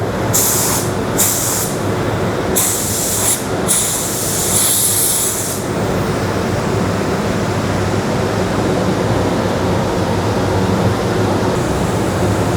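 A paint spray gun lays a second base coat on a car door during an HQ restoration, giving a loud steady hiss with bursts of sharper high spray pulses in the first half, alone without talk.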